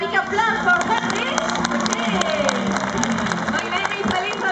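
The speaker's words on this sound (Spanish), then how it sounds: "yo les pido un aplauso pero fuerte para Enrique" Crowd at a parrot show at Marineland on Spain's Costa Brava, clapping steadily and fairly loudly for several seconds, with chatter and a voice over the applause.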